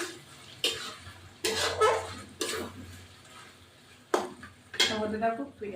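Mutton masala with yogurt stirred in a pot, giving a few loud scraping clanks of a spoon against metal at irregular intervals between quieter stretches of low background hum.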